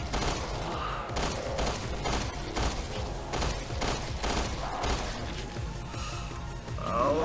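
Rapid bursts of machine-gun-pistol fire from Resident Evil 2 Remake, loud and dense, with shots running almost continuously for several seconds and no talking.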